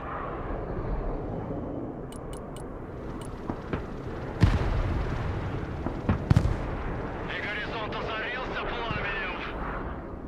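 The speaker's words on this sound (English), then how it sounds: "Ballistic missiles out." Iskander ballistic missiles launching in the Broken Arrow war game, with sharp heavy blasts like artillery over a continuous battle rumble, several distinct bangs spread through the clip and voices talking alongside.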